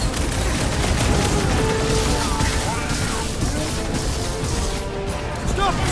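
A smart bomb explodes in the Marvel's Guardians of the Galaxy video game, filling the scene with a dense, loud roar of blasts and crashing noise and no clear pauses.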